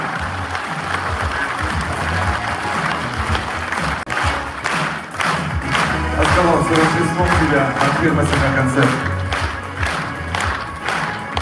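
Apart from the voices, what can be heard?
audience clapping at Christmas concert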